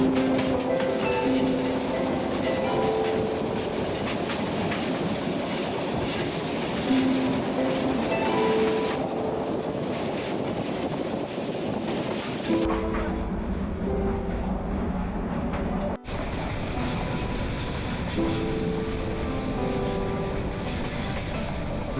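A passenger train from Dhaka to Sylhet rolling along the rails, with a continuous rumble and rhythmic clatter of wheels. The tone shifts partway through, as if the surroundings change.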